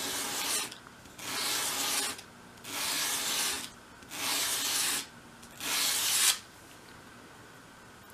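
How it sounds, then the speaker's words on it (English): File sweeping across small wooden pieces to cut an even bevel for a 1/12 scale chest, five steady rasping strokes in an even rhythm with short pauses between, close and fairly quiet. "I normally count the number of sweeps, and that way you know that you're getting an even bevel on both pieces."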